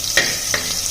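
Raw onion and chopped chilies sizzle in hot oil for a masoor dal, a steady close crackle with three scraping stirs spaced evenly across the second.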